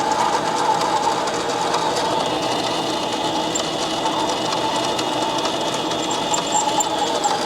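A mini lathe bores dry through a metal bung, a steady close whirring motor hum with a continuous cutting drone and no pauses.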